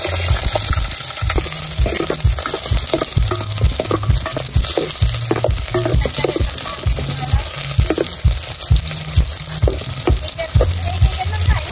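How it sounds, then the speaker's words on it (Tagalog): Garlic and onion sauté in oil in a pan over a strong wood fire, a loud, steady sizzle with repeated scraping and stirring strokes throughout. "Tayo po ay magigisa na po ng bawang at sibuyas."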